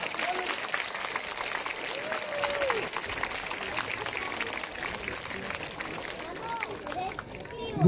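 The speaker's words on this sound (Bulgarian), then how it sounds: "Вашите аплодисменти за нашите красиви момичета!" Audience applause for the girls at an outdoor fashion show in Vidin, a steady wash of clapping with crowd noise and some talk mixed in throughout, rising at the very end.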